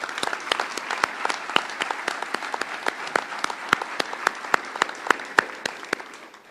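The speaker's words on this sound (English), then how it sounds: "Let's give Kathy a round of applause" An audience at an awards ceremony honoring highway workers applauds steadily, a dense patter of many hands with a few sharp, distinct claps standing out, sustained without talk and tapering slightly at the end.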